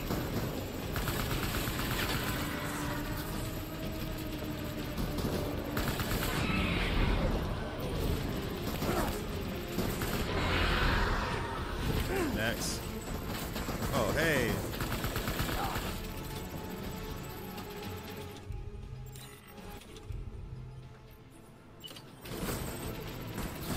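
Gunfire in the Clifford Unger boss fight of Death Stranding on PS5, with sustained bursts and shooting layered over dense battle noise and mechanical clatter, fairly quiet overall and easing off near the end.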